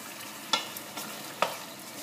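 Meat for Tunisian kammounia frying in a pan under a soft, steady sizzle, with two distinct scraping stirs and a few lighter touches at close range.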